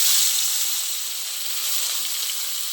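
Chanda fish frying in hot mustard oil, giving a loud, steady, bright sizzle and hiss that fades slightly after the first moment and carries on with no voices.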